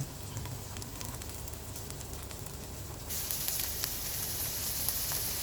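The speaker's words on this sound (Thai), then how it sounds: "มันเดือดแล้วก็เทไข่ลงไปเลยครับ" Beaten egg for a Thai omelette poured into hot oil that has already fried garlic, a steady crackling sizzle that jumps louder and brighter partway through and keeps hissing close up.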